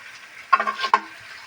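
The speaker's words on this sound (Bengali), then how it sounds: "এখন ভালো মতন কষিয়ে নিচ্ছি জিরা আদা লঙ্কা দিয়ে" Rice stir-fried with cumin, ginger and chilli in a kadai makes a short, close burst of scraping and sizzling, two quick stirring strokes in about half a second, then fades to near quiet.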